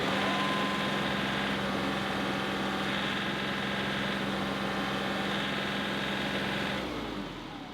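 A tractor engine idles steadily with the hydraulics pressurised, a constant mid-low drone that holds evenly for several seconds before fading out at the end, no voices over it.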